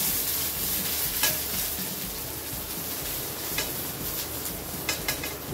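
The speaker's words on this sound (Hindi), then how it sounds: "सबसे पहले जिंजर, फिर गार्लिक, ग्रीन चिल्ली। हम लोग इसको स्लाइटली मिक्स कर लेंगे" Ginger, garlic and green chilli sauté in a hot pan for Schezwan noodles, a steady loud sizzle running throughout with occasional scraping stirs and faint clinks of a utensil.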